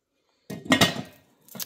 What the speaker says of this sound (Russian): Так, сейчас накроем крышкой.